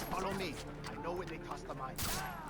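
Gunfire crackles in the video game Far Cry 3, a dense, loud barrage of overlapping shots and blasts with someone talking excitedly over it.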